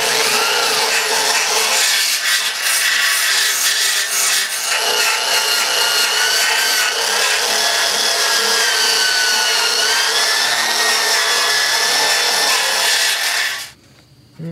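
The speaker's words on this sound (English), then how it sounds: "I've been wire brushing here a little bit on this." Wire brush scrubbed by hand across a push mower deck during a repair, a continuous close, harsh scraping rasp that runs unbroken for about thirteen seconds and then stops.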